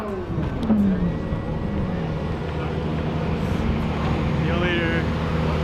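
Ferrari sports cars pull away from a cars-and-coffee gathering in Austin, a steady, loud engine drone with buffeting wind noise running throughout and voices faintly mixed in.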